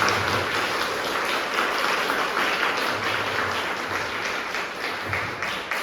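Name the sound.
congregation applause in church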